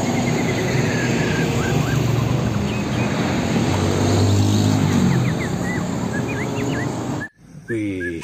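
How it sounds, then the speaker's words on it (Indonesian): A long tanker truck drives past outdoors, its engine a steady loud rumble that fills most of the clip, with a brief dropout near the end and a few faint chirps in the background. "truk tangki panjang teman-teman."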